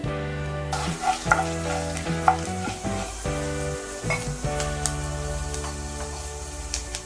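Urad dal and raw dal hit hot oil and fry with a steady, bright sizzle, broken by a few clinks and stirring scrapes in the pan, close and continuous with no voices.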